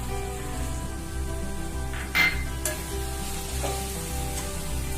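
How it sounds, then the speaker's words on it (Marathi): Spice masala of roasted whole spices and coconut, with a few cashews, sizzles steadily in a pan for a suka chicken recipe, a continuous close frying hiss with brief louder bursts as it is stirred. "आता हा मसाला टाकून घेऊ आपण"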